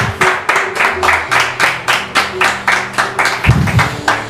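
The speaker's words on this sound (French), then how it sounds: "est-ce que, très cher public, on peut dire merci à Dieu par des applaudissements?" An audience claps in a steady, rhythmic beat, about four claps per second, with a sustained musical tone beneath it.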